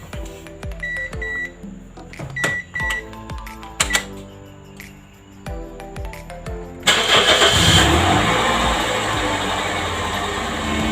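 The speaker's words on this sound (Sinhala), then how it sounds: "වාහනේ ස්ටාර්ට් කරාම සද්දය නම් ඔක්කොම ඇහෙන්නේ" A 2002 Toyota Premio has clicks and mechanical ticks at first, followed by the engine cranking and catching. It then settles into a loud, steady idle rumble close by, with no talking over it.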